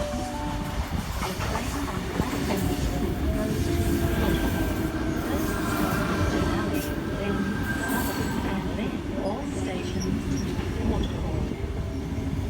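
A Sydney Trains passenger train on a Waterfall service rumbles steadily into platform 2 at Mortdale station, wheels clattering and squealing faintly throughout, loud and close.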